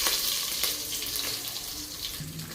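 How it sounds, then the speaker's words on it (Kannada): Hot water poured over field beans (avarekalu) in a kitchen, a steady close splashing, running stream lasting throughout with faint clinks and a slight change in tone near the end, no talking. "ಈಗ ನಾವು ಬಿಸಿನೀರು ಹಾಕಿದ್ದೀವಿ ಅವರೆಕಾಳಿಗೆ."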